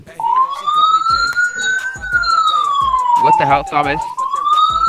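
A police car siren in the video game Ravage wails in a long rising and falling sweep, loud and close, while several players talk and shout over it.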